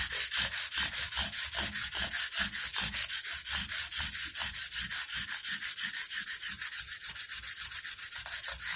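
Grit pads rub back and forth over banjo frets in a fast, steady rhythm of close, scratchy sanding strokes, with no talking.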